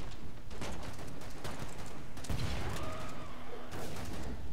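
Grenade blasts and gunfire from the video game Killing Floor 2 ring out in a dense, loud barrage. Several sharp bursts hit over a continuous roar of combat noise.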